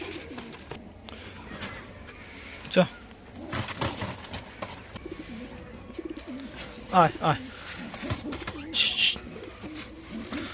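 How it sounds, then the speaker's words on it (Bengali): A pair of pigeons, a male and a female, coo softly nearby while being put into a cage, with some wing rustling and a sharp chirp, while a person calls out and talks quietly in between. "দুটো ভালো কোয়ালিটির পায়রা আছে"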